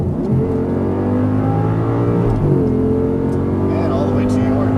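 Audi R8 accelerating hard on a race track, a loud close engine roar with harmonic tones climbing in pitch, a brief dip at a gear change, then rising again.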